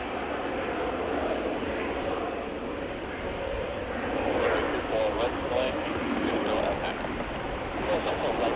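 Airliner taking off from runway 24 left at Cleveland Hopkins Airport, a broad steady jet roar swelling slightly midway, heard from a distance, with radio chatter over it.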